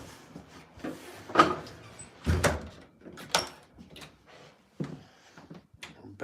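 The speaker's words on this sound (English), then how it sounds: "All right, let me close the door." Someone closes a home office door. Two solid, close knocks and clunks come from the door and latch, with quiet shuffling between them and no talking.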